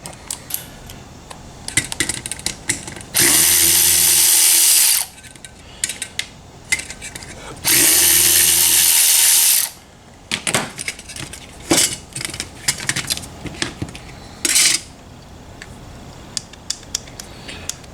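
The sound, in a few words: ratchet with 1/4-inch socket turning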